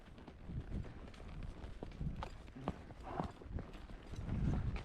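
A horse walks along a desert trail near Tombstone, its hooves clopping in an uneven, muffled rhythm, with wind buffeting the microphone and a faint voice murmuring.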